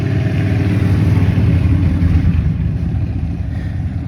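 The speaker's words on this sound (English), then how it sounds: "there's a lot of motorcycles in this area, so they're pretty loud" Motorcycle engines drone steadily along a busy street, a continuous mid-pitched rumble that swells slightly and then eases as the bikes pass, with no talking.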